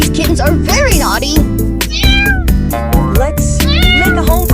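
Cartoon kittens meow repeatedly in rising, wavering calls, loud and close, layered over continuous background music and voices.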